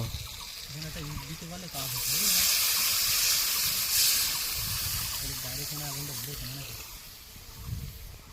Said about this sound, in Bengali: জল দিয়ে দিল কিন্তু টকে।